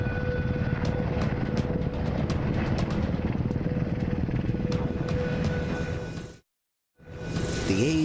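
Loud, sustained military helicopter engine and rotor noise with rhythmic blade chop, cutting out briefly near the end before resuming.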